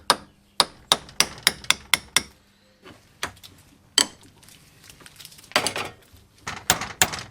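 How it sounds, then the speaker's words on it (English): Sharp metal tapping on the lock washers of a Classic Mini gearbox crown wheel: a quick burst of close, ringing hammer blows, a pause with scattered single taps, then another cluster of strikes, with no talking. "We need to tap back the lock washers and undo the 6 bolts to withdraw the crown wheel"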